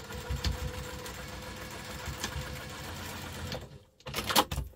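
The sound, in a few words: sewing machine stitching a double line on bag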